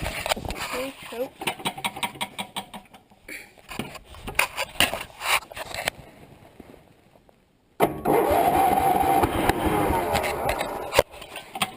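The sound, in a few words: 1975 Sears Suburban ST16 lawn tractor engine starting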